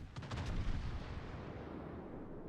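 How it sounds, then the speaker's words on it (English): Naval gun salvo in a warship battle video game: a rapid cluster of booming shots at the start, then a long rumbling roar that fades slowly, loud and without speech. "Got one final salvo."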